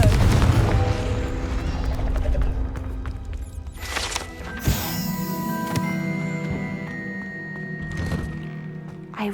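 Confringo fire spell blasts in Hogwarts Legacy, landing as heavy booming thunks with bursts of crackle and a sustained fiery rumble, two big impacts a few seconds apart over game music, no talking.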